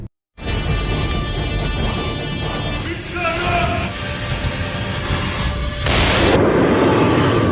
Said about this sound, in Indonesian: hingga api itu pun menyebabkan ledakan